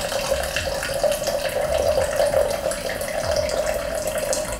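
Water streams steadily from the spout of a ZeroWater 5-stage filter pitcher set on a countertop, a close, even pour with a tonal trickle that runs unbroken for several seconds, no speech.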